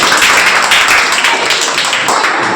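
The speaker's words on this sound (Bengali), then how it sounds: "সঠিক উত্তর হাততালি" Dense, steady applause fills the room after a correct answer at a school quiz contest, a continuous wash of many hands clapping at close range with no pauses.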